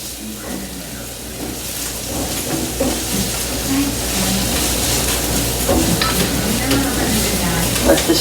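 Garlic sautéing on high heat in a pan for chicken fried rice, a steady dense sizzle with scattered pops and stirring scrapes running continuously close by, no talking.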